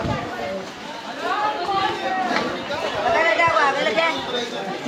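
Crowd chatter fills the grounds of Marleshwar temple in Konkan, a steady, fairly close babble of many overlapping voices with no single speaker standing out.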